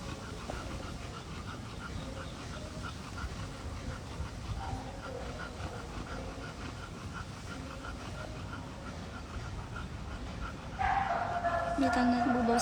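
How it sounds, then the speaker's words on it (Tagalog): Several dogs bark and yip before feeding time in a restless, repeated pattern, fairly far off, and a voice may also be heard. A louder, closer noise starts near the end. "Bakit ang ingay ng aso? Kasi kakain na sila."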